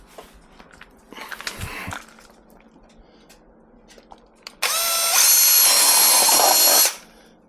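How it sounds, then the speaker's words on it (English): A power drill whirs loudly and steadily for about two seconds near the end, driving screws into a 3D-printed bench top, after some quieter handling clatter and a brief mechanical buzz. "Drill."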